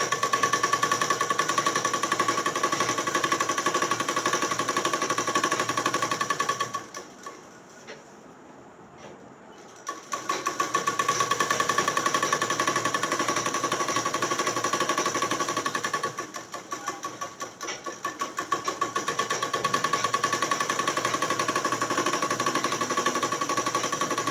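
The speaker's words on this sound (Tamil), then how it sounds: "உள் ஓரமாக துணியில் ஓரமாக தைக்கிறோம்." A sewing machine runs in fast, even bursts while stitching a folded quarter-inch fabric hem on a frock, a loud steady mechanical whir and rattle, pausing briefly twice before starting again, close up with no talking.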